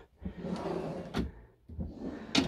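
A gas compartment door on a Mercedes Carthago C Tourer i150QB motorhome slides and clunks open with a few sharp knocks and scraping, close by and moderately loud.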